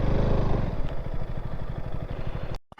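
Close up, an Apollo Alpha H1 motorcycle idles with a rough, pulsing engine chatter, then cuts out abruptly near the end into near silence.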